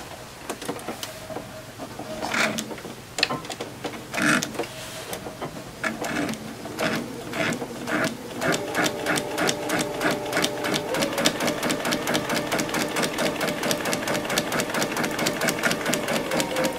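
A sewing machine stitches a quilt triangle geese block. Scattered clicks and handling sounds lead into a fast, steady, close run of rhythmic stitching.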